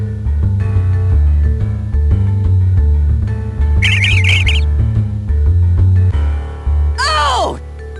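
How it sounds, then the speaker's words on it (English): In a Little Red Riding Hood story, a flock of birds led by a thrush descends on a wolf, heard as two short bursts of shrill squawking over steady background music. "a flock of birds soared down out of the sky, led by the thrush. They pecked at the wolf with their sharp beaks"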